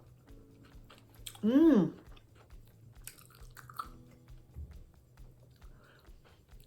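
Chewing a donair beef burger with sweet sauce, one loud close crunchy bite followed by quieter wet chewing, with a brief murmur of appreciation.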